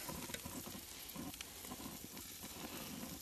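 Burgers sizzle on an outdoor grill, a faint steady hiss and crackle with occasional soft pops, continuous and close with no voices.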